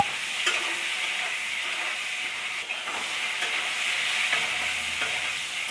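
Chopped tomatoes dropped into hot oil for a rohu fish curry sizzle and fry steadily and loudly, with a few stirring scrapes breaking the continuous hiss.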